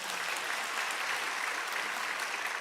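Steady applause from a church congregation during a worship service, a dense continuous patter of many hands clapping at even loudness with no voices over it.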